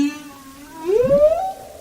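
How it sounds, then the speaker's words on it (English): A male humpback whale sings a single long moaning call that slides upward in pitch and holds, resonant and alone against a faint undersea hiss. "Male humpback whales are the concert singers of the marine world"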